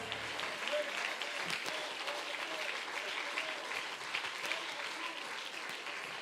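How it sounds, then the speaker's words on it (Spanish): A church congregation claps together for several seconds, the steady, moderately distant applause carrying faint voices and a few cheers mixed in. "Con todo el corazón aplauda a Jesús."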